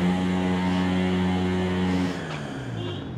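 A motorcycle engine being worked on at a roadside repair shop on a Kabul street runs loudly with a steady, close idle drone for two seconds, then drops lower and quieter as it winds down.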